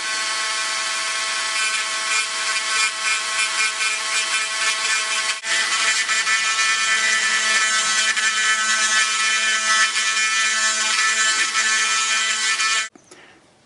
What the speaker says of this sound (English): Alright, we got the Dremel going.